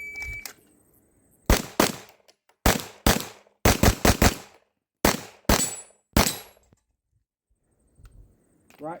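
Pistol shots fired at steel targets during IPSC practice with iron sights, a dozen sharp loud reports in quick pairs and clusters, with no talk over them.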